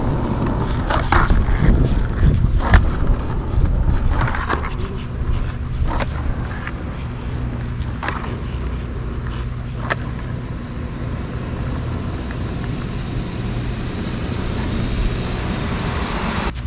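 Skateboard wheels roll steadily on pavement during backside tricks after six weeks off following surgery, with repeated sharp clacks of the board landing and popping throughout, close and fairly loud over a continuous rolling rumble.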